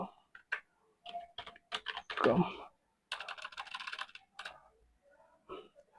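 Typing on a computer keyboard while entering Python code, heard as bursts of quick close key clicks separated by brief pauses, with a voice talking over parts of it.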